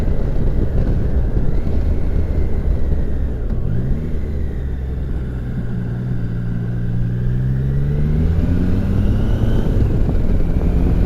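A Triumph Tiger Sport 660 motorcycle engine pulls hard while riding, a steady loud rumble with rising and falling rev sweeps as gears change, close and continuous with no talking.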